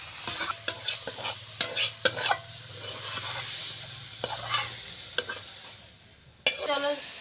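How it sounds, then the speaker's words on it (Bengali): Leafy greens fry with garlic and green chili in hot oil, a steady close sizzle broken by repeated sharp scrapes and clinks of a stirring utensil against the pan, with no talking. "তো চলো, শাক ভাজা হয়ে গেছে,"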